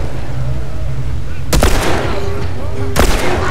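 Two sharp, loud gunshots in The Last of Us ring out about a second and a half apart over a low ambient game backdrop, each with a short echoing tail.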